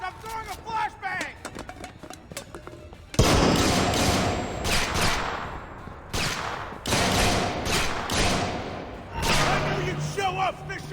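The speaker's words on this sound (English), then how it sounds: "I'm throwing a flashbang!" A flashbang grenade bursts in Splinter Cell: Conviction, a sudden loud blast that starts a long stretch of dense gunfire and impacts, with shouted voices around it.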